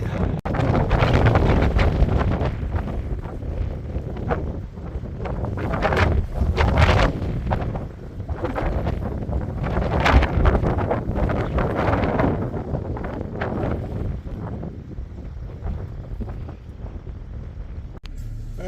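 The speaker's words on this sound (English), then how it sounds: "Man, is it windy." Strong desert wind in the Mojave near the Lost Horse Mine buffets the microphone in heavy, roaring gusts that swell and ease across the whole stretch, with no other sounds standing out.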